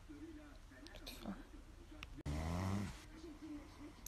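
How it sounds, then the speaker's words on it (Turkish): A person snores in a deep, rough rasp near the middle, loud and close, surrounded by quieter breathing and murmured speech in a bedroom. "Artık horlama aşkım."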